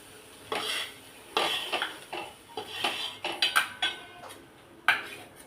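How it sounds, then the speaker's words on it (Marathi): Tomato chutney scraped off a hot tava griddle with a metal spoon, a series of close clanks and scrapes of cutlery against the pan in irregular bursts, with no talking. "मी आता तव्यातून उतरवून घेते"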